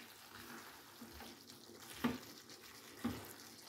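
Pumpkin and potato curry is gently mixed with garam masala in a pan, giving a low quiet sizzle with two soft spoon knocks against the pan.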